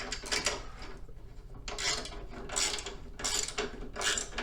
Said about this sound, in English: tighten this up, leaving that nut loose because it's going to put itself where it wants to be.